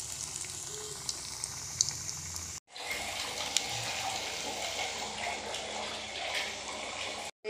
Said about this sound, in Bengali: এখন আমি স্প্রিং রোলটা ভাজা করবো একটা একটা করিয়া।